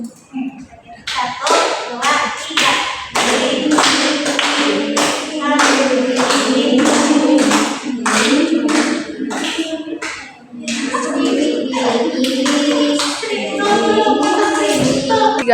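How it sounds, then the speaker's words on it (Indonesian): A small group claps in loud, sharp, evenly timed unison during a group guidance session, keeping a steady beat with a brief pause midway while voices count along and sing. "Tepuk tangan ya."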